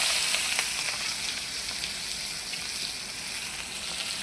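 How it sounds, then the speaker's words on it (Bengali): Onions dropped into hot oil with whole cumin seeds sizzle and crackle steadily and close up, a continuous bright frying hiss with small pops, for a Hyderabadi-style fish curry. "গোটা জিরা, আর কিছু যাবে না তেলের মধ্যে। এর মধ্যে দিব পেঁয়াজ।"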